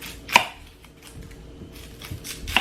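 A knife cuts through an onion on a cutting board, trimming off the ends: a sharp chop, a quieter stretch, then a second crisp cut, close and clear with no voices.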